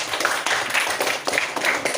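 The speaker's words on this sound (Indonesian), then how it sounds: "Ayo beri tepuk tangan untuk Denisa." Classroom of primary-school children clapping for a pupil named Denisa, a quick, lively patter of many small hands at close range, continuing briskly for a couple of seconds.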